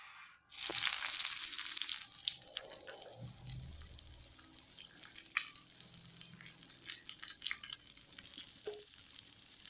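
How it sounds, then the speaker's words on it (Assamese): Onions hit hot mustard oil in a wok and sizzle loudly at once, a steady bright crackle that continues with occasional spatters and stirring clinks, no voices. "এতিয়া ইয়াত আমি পিয়াজ দিম।"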